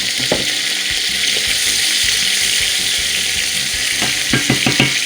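Chicken liver fries in a pan with a loud, constant hissing sizzle throughout, while a few quick clatters and stirring knocks come near the end and no one talks.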